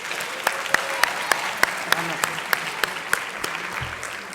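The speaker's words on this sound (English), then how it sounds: "Let's give everyone a round of applause." An audience at a school lecture-series event claps steadily, a sustained wash of applause with sharper regularly spaced claps standing out near the microphone.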